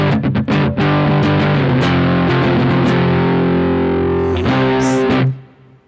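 An electric guitar played through a distortion effect rings out loud and up close: a few quick picked notes lead into sustained crunchy chords that hold, then a final strum decays into near silence.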